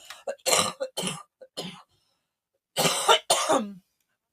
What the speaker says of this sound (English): It's a hearty cough, Nice and wet.